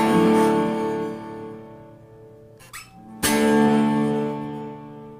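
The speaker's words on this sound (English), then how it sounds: "So what you hear is the delay trailing, and you hear the signal going into the amp." An Epiphone Les Paul Special electric guitar plays a sustained chord through distortion and delay. It fades out as a volume pedal is pulled back, leaving the delay tail trailing into near-silence, then the chord swells back loudly.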